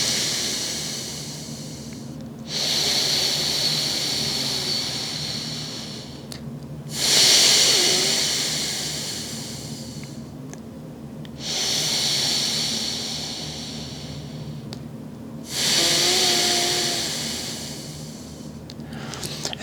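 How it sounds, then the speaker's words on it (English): Slow, deep breaths from a breathing exercise for pelvic pain, done behind the shield: four long breathy cycles with hissing inhales and exhales, close and alone, each lasting a few seconds and spaced by quieter pauses. "And that is breathing behind the shield."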